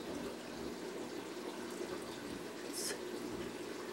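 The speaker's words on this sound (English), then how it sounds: "I've got an FX6 and a wet dry filter running in this one." Water circulation from an FX6 canister filter and a wet/dry sump filter on a 180-gallon aquarium show tank gives a steady, soft wash of trickling, hiss-like flow, continuous and fairly faint with no talking.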